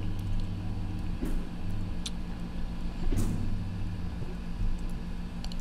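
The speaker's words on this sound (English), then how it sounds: "So, riding a little elevator." A small elevator moving in the Teslagrad puzzle game, a steady mechanical hum with low engine-like drone and a couple of soft clanks near the start and middle.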